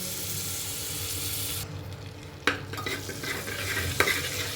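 Butter melts in a hot pressure cooker for pav bhaji with a continuous close sizzle and hiss. A few sharp clinks of stirring cut through the steady frying sound.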